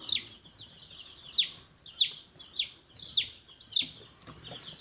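A hen with a pasted-shut vent calls in a regular series of five or six sharp, high clucks or squawks about a second apart, close and fairly loud over a quiet background.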